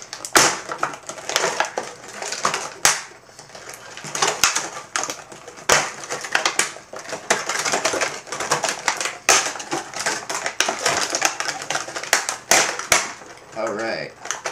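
Stiff plastic packaging around Skullcandy Hesh headphones crinkling and crackling continuously up close, with sharp snaps and rustles as it is pulled and handled.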